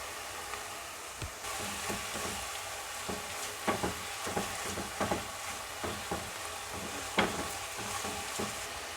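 Crushed ginger and garlic sizzle in a pan, a steady close fry with scattered stirring knocks and scrapes, no talking.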